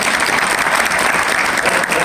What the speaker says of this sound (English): Everybody give Miss Wilson a round of applause